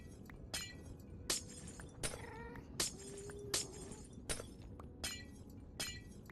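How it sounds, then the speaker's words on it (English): Glass shatters repeatedly in Minecraft: a series of sharp, bright breaking crashes at fairly regular intervals, each brief and crisp, heard alone without talk at moderate loudness. "sound of glass breaking is very annoying to me"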